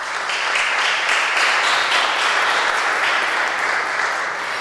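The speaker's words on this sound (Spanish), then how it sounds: "Un fuerte aplauso para ellos también." An audience at a Dominican lecture on underwater cultural heritage gives the naval midshipmen a strong, sustained round of applause, loud and dense clapping from start to finish.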